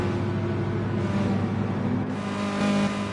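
V8 Supercars pulling out of the pit lane at Bathurst in GT Sport, a steady loud engine drone with a low hum and no talk.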